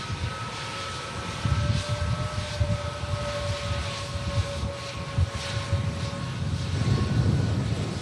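A Turkish airliner from the A320neo family taxis off the runway at Manchester Airport, its engines giving a steady, loud, droning roar with a whining tonal hum that holds throughout and swells toward the end.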